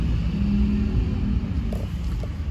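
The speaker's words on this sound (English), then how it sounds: "Sorry about the sound of the bin wagon there." Garbage truck rumbling past on a street, a low steady engine drone with a faint high whine, fairly close and fading slightly toward the end.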